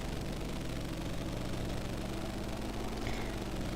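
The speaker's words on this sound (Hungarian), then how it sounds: "Hogy brummog a motor." A vehicle engine in the video game Arma 2, rumbling steadily at a low idle-like drone, continuous and close with no talk.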